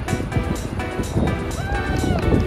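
Squeaky shoes squeak on each footstep as someone walks at a quick, steady pace. The short chirps repeat rhythmically close to the microphone under gusty wind noise.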